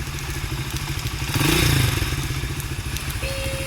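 A GPX DP125 motorcycle engine runs nearby with a steady, throbbing idle and a brief swell in revs midway, along with some clatter and thumps, and no talk.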